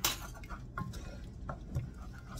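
A whisk working milk into a stovetop mac and cheese sauce in a pot, with soft metallic clinks and scrapes against the pot at an uneven pace, close and quiet, with no talk.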